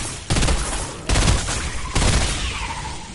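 Bursts of video-game gunfire from another player, loud and close, in three distinct volleys of rapid shots, with no talk over them.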